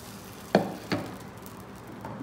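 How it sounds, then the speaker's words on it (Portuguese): Chicken pancake batter hitting a well-heated frying pan, two short wet sizzling splats followed by a faint low hiss. "A frigideira já tá bem aquecida, pessoal. Agora eu vou começar a colocar a massa"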